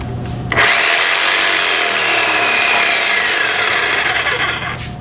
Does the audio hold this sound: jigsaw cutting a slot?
yes